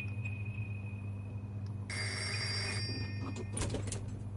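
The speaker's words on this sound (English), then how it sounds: "is that a phone ringing?" A phone rings in a video game back alley, a bright electronic trill bursting out for under a second over a steady low ambient hum, then a brief clatter afterward.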